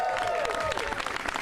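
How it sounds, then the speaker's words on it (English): An audience breaks into applause at a Philadelphia grant press conference, a brief, dense burst of clapping. "Clap that up."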